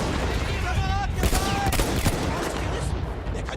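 Gunfire in the World War I shooter Battlefield 1, heard as a few sharp cracking shots over a dense battle din with whistling and rumble, moderately loud and up close.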